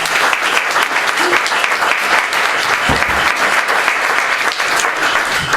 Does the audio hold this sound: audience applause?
yes